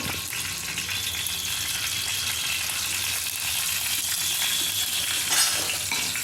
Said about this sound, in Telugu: పచ్చిమిరపకాయ ముక్కలు, పచ్చనిపప్పు, ఆవాలు, జీలకర్ర, ఉద్దిపప్పు ఈ తాలింపు అయితే వేసుకుందాం